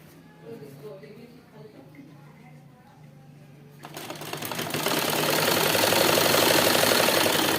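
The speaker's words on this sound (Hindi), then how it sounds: "हमें वहां तक ही इन दोनों को मिलाकर सिलाई करनी है और फिर हमें पॉकेट को साइड कर देना है और ऊपर वाले कपड़ों पर यहाँ सिलाई लगा देनी है इस तरह से।" A sewing machine stitching a pocket onto a trouser, heard first as soft handling while someone talks, then starting up into a loud, steady, rapid whirring stitch that continues to the end.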